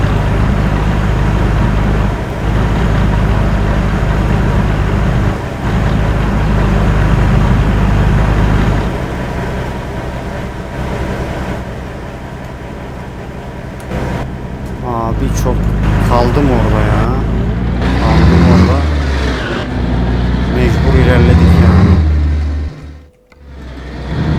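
Truck engine in Euro Truck Simulator 2, a FIAT 619N on a snowy road, droning loudly and rising as it accelerates, with someone talking over the steady engine roar throughout.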